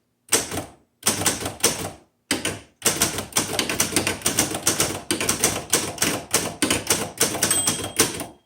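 Rapid keystrokes clatter on a 1931 Burroughs manual typewriter, first a few short separate bursts, then a steady run of crisp, loud strikes close up with brief gaps between them.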